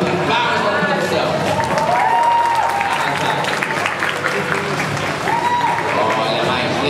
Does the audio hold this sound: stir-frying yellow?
no